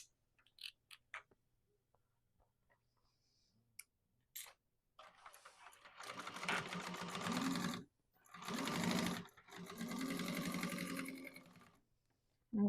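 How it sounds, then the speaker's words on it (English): A sewing machine top stitches the two finished edges of a bag, running in several loud bursts with short pauses between them after a few soft clicks of handling. "top stitch the two finished edges"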